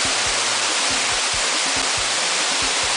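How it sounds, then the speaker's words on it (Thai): Tad Bong waterfall swollen after heavy rain roars as a loud, dense, continuous rush of falling water, close by and steady, with some low wind buffeting underneath. "อันนี้เป็นบรรยากาศของน้ำตกตอนนี้นะครับ"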